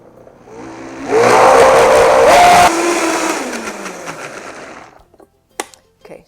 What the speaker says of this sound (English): We're going to blend this in.